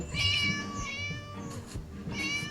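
A cat meows loudly and repeatedly in a video game while a girl searches for it to rescue it from an angry teacher, three drawn-out, wavering cries filling the stretch with no talk over them.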